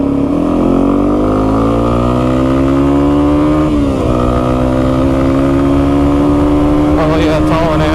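A Yamaha TW200 dual sport motorcycle with a rebuilt carburetor rides in third gear, its engine droning loud and steady with the pitch rising gradually, briefly dipping near the middle, then climbing again.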